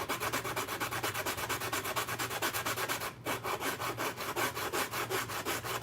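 Steady, rhythmic back-and-forth sanding strokes on a Mandalorian helmet, close and loud, with one brief pause partway through and no talking.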